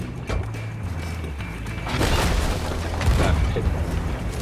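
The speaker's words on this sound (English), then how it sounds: "You gotta get used to cannon shots again." Cannon shots boom on a pirate ship in the Sea of Thieves game, with heavy low thuds and bursts over continuous rumbling sea and gameplay noise.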